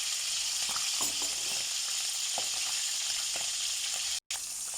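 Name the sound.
dry fish frying in hot oil in a pan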